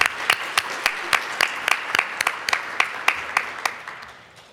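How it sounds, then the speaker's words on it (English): Applause from a symposium audience, heard as a run of sharp, separate claps at a steady rhythm that fades toward the end, with no talking over it. "Round of applause."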